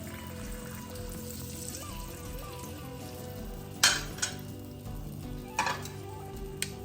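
Chicken varuval frying in a pan as water used to rinse out the ground masala is poured in, producing a continuous sizzle and bubbling with a few sharp clanks of a utensil against the pan.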